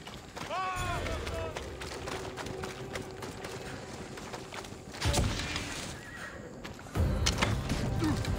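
In the Assassin's Creed Odyssey video game, a horse whinnies in a short descending call near the start, then hooves pound steadily through the clip amid game effects, with louder impact bursts near the end.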